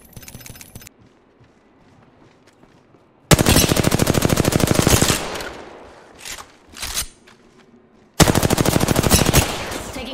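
Automatic weapons fire in the Apex Legends shooter, three loud, close, rapid bursts of gunshots separated by quieter gaps with a few scattered mechanical clicks and thuds between them.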